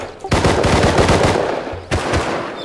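Gunfire from the video game Rust during a raid: rapid bursts of automatic shots rattle loudly through most of the stretch, with a short pause before another burst starts.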